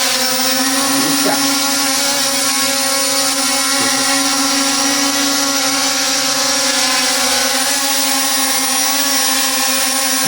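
A Rox M29 brushless beginner drone flying, its propellers giving a steady, loud high-pitched whine with layered motor harmonics that waver slightly, close by and continuous throughout.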